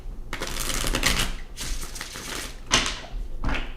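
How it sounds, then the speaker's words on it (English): Tarot cards being shuffled in several quick riffling bursts, close and crisp, with short pauses between them and no voices. "right, last shuffle"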